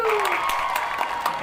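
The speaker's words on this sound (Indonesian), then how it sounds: "Tepuk tangan pasti dong" A brief burst of clapping and cheering from a small group in an Indonesian podcast setting, loud and close, with a voice and a sliding tone running over the claps.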